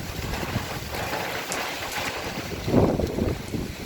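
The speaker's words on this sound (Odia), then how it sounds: "ପବନ ବି ଜୋର ହେଲାଣି" Strong wind blows during a heavy rainstorm with big drops, making a steady roaring rush with buffeting against the microphone and a louder gust near the end, with no voices.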